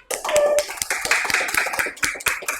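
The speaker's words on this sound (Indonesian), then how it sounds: "Tepuk tangan dong untuk kita semuanya." Clapping hands in a classroom, a group of students applauding together at close range with sharp, uneven claps and some faint overlapping voices.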